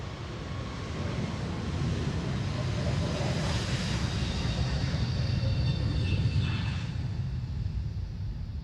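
JetBlue Airbus A321 long range taking off at Amsterdam Schiphol on a windy day, a broad rumbling jet roar that swells and then holds, with wind buffeting the microphone.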